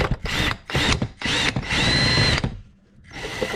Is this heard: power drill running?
yes